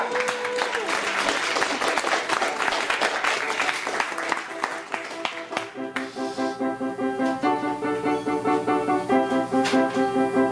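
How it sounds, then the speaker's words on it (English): An open mic crowd at a Chicago poetry cabaret applauds loudly and steadily, with clapping dense at first and then thinning as music or tones enter midway, with some voices mixed in. "I want to hear a lot of screams and applause for Rich Experience."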